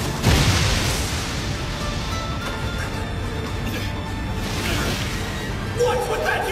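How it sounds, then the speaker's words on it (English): A huge anime explosion booms out with a sharp blast at the start, followed by a sustained rumbling, whooshing roar of debris and smaller crashes, with a second burst near the end. "What's with that huge explosion in the back?"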